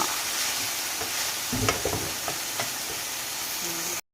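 Onions and peppers crackle in a pan that shifts and bumps on the stove, a steady sizzle broken by a few knocks and scrapes before it cuts off abruptly.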